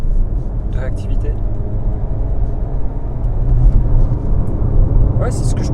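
A 2017 VW Tiguan Mk2 with a 1.4 TSI 125 hp engine drives along, a steady low engine and road rumble heard from inside the cabin, with someone talking over it.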